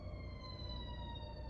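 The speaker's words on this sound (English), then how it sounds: "There's a siren out there right now." A siren wails outside a home near a fire department, faint and distant, its steady rising tones running beneath low background rumble with no talk.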